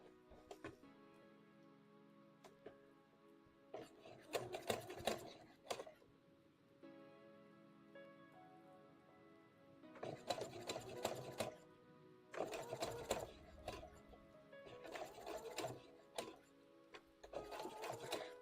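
A sewing machine making a Pokemon plush runs in several short bursts of close mechanical whirring and clatter, separated by quieter pauses.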